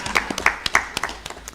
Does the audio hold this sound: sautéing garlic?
no